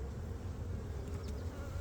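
Bees swarm around an open hive at an apiary in hot, humid weather, a close, dense buzzing drone holding steady for a brief moment with no voices.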